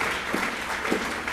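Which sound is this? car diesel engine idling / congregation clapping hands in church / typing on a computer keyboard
congregation clapping hands in church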